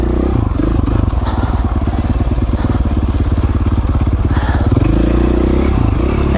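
A KTM 450 dirt bike thumps along a slick, rocky, steep mountain single track, its single-cylinder engine pulsing loud and close with steady low-frequency firing. Rocks clatter and scrape beneath the tires, and the engine revs up briefly near the end.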